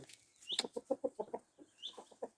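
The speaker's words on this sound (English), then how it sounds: "She's a nice little hen." A hen that is not a purebred Cuckoo Maran clucks close by in a steady run of short, soft, rhythmic calls, with a couple of higher squawks mixed in.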